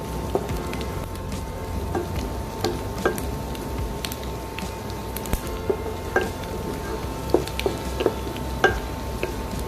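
Onion with dried red chillies and three whole green chillies stirred in a frying pan, a soft steady sizzle under repeated light scrapes and taps of the spoon against the pan, close and moderate in level.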